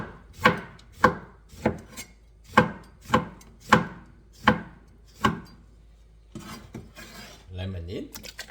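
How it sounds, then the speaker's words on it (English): A knife chops steadily on a cutting board, about ten sharp evenly spaced cuts thinly slicing a lemon, followed by brief rustling and a soft clatter. "We're gonna thinly slice it."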